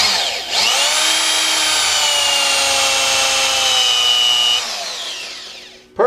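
A power wire brush spins up and whines steadily while cleaning Ninja motorcycle forks during a restoration, a loud close tonal drone that holds for several seconds, then winds down.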